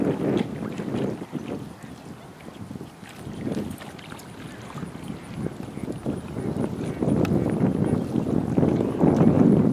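Wind rushes across the microphone while a Welsh Terrier rides a stand-up paddle board, a loud buffeting roar that rises and falls in gusts and grows stronger toward the end, with a voice faintly mixed in.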